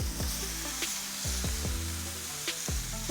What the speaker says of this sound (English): that high heat sear